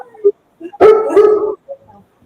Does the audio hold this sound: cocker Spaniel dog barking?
yes